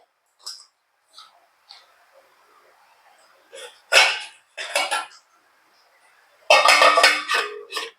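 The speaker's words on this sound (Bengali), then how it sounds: "খুব ভালো করে মিশিয়ে দেবো আমের মধ্যে" Raw mango pieces being mixed with salt in a bowl, giving scattered clinks and soft scrapes that build to a few louder bursts of tossing and rattling near the end, close by, with no speech.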